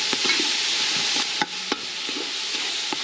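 Chopped onion sautéing in a pan for a sofrito base for a Galician chickpea stew, a bright close sizzle with occasional spoon knocks and scrapes against the pan.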